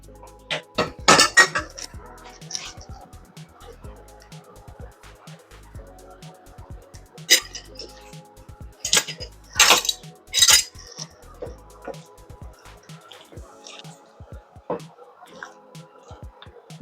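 Apples are folded into a creamy filling in a bowl, with soft spoon scrapes and clinks against the bowl while a person talks.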